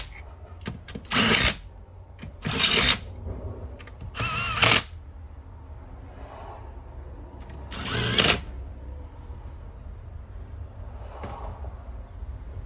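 A ratchet snugs down bolts on the engine case of a Suzuki DRZ400 during a crankshaft job, heard as four short bursts of rapid clicking with quiet shop ambience between them.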